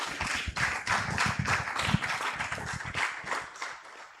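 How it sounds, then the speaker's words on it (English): An audience at an African academic conference at Tangaza University claps for a speaker, giving a steady run of close, sharp claps that lose a little strength toward the end. "Let's give her a better clap,"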